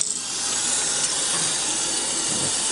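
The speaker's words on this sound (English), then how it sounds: "I think it's filling up with water over here" Water rushing into a RainSoft Q2-series water softener, a steady loud hiss filling the whole clip without pause, close and continuous, no voices.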